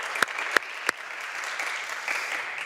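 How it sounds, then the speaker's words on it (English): Clapping and applause from a conference audience after a speaker's talk at a startup event, a steady wash of claps with three sharp louder claps near the start. "Massive applause for David and also for all of them"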